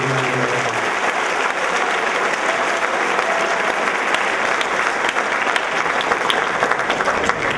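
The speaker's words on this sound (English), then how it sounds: "Please give all of the coaches a round of applause." A crowd at a spring sports awards ceremony claps steadily and warmly for the coaches throughout, a continuous wash of applause with no pauses.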